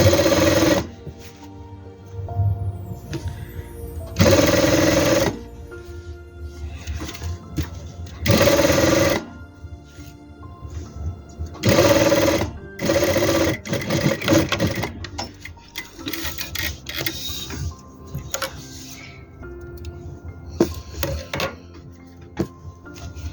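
A sewing machine stitches piping on a jalabiya in several loud bursts of rapid mechanical whirring, separated by quiet pauses with faint handling noise between runs.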